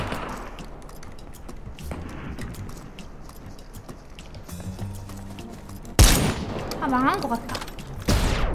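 An AK rifle fires rapid, sustained automatic bursts in a video game, the rattling shots continuing for several seconds before a sharp loud blast, with someone speaking over the later part.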